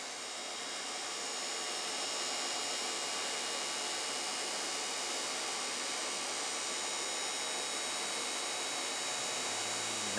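A Ford Excursion fuel pump runs steadily with its relay jumpered, a constant whining hiss that holds level the whole time with no speech over it.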